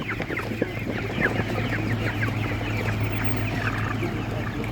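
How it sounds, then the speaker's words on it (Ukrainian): Broiler chickens at an outdoor poultry market cluck repeatedly in a dense, overlapping chorus, close by, over a low steady hum in the background. "дуже гарний бролер"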